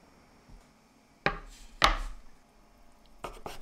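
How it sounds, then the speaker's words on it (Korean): A knife slicing cooked chicken thinly on a wooden cutting board for Korean gisumyeon, with a few sharp, separate chopping knocks against the board and quiet pauses between them. "익혀놓은 닭고기를 얇게 썰어줍니다."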